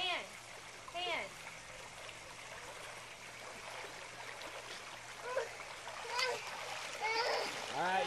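A young child learning to swim paddles and splashes in water, producing intermittent splashes and trickling sounds, while a voice and an adult's voice are heard speaking over the water.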